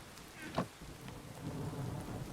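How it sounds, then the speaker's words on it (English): Steady rain hiss fills a Minecraft modpack world, with a soft rumble of thunder building underneath and one brief crackle early on, moderately quiet overall and no voices. "Of course it's raining."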